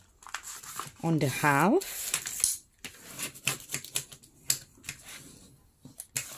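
A paper envelope being folded along its long side during a card craft, giving crisp crinkling and rubbing creases in scattered short bursts, with a person speaking briefly near the start.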